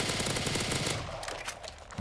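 Rapid automatic gunfire from a weak 20-round-magazine gun aimed at zombies in Call of Duty Zombies, loud and dense bursts for about a second, then thinning into scattered shots.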